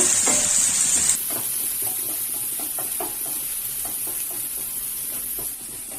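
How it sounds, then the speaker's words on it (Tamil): Onions and curry leaves sauté in a pan for a Tamil moong dal curry, a steady close sizzle broken by scattered stirring knocks and scrapes, with a sharper hiss in the first second as the leaves go in. "வெங்காயம் வந்து நல்லா வதங்கிட்டுங்க. தேவையான அளவுக்கு கருவேப்பிலை சேர்த்துக்குங்க"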